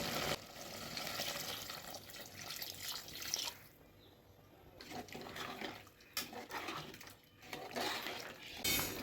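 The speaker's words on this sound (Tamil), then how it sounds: "தேவையான அளவு தண்ணி சேர்த்துக்கிறேன்" Water running and splashing as it is poured into a pot of mutton curry, a steady broadband pour with brief pauses and clinks, with no talking.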